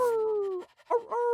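A cartoon dog gives a long drawn-out whining woof, a short gap, then two more yelping woofs, loud and close with a tonal, sing-song quality.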